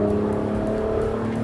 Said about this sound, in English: We get a few pops, we get a few surges, very fun. And that's the upshift.